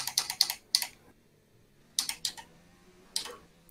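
A game steering wheel clicks during a session of the racing game F1 2019, sounding as quick clusters of sharp plastic clicks in three or four bursts separated by short pauses.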